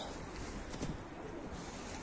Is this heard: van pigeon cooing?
yes